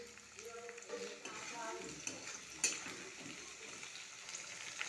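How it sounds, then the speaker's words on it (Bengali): Cut potatoes fry in hot oil with a soft, quiet sizzle and occasional stirring, while a voice speaks faintly in the background near the start. "আলুগুলি লাল করে ভেজে নেব।"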